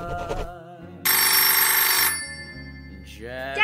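A telephone rings loudly for about a second in a festive household scene with music playing, then falls silent before music and other sounds resume.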